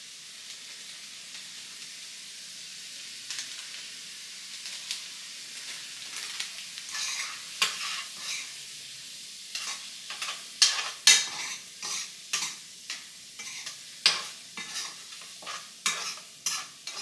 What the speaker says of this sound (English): If you don't know how to cook shrimp, all you gotta do is keep cooking it till it turn pink